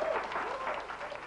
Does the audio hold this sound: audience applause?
yes